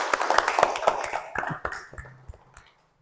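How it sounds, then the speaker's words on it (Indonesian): Schoolchildren in a classroom clapping for a student, a short, fairly close burst of sharp individual claps that grows sparse and dies away to silence near the end. "Silahkan tepuk tangan untuk Zidna ya,"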